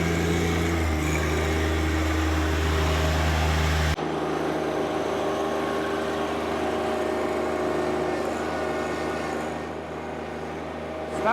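A tractor fitted with a Heavy Hitch toothbar digs into clay, its engine running steadily and loud throughout, with a low drone and a sharp change in texture partway through as the load shifts.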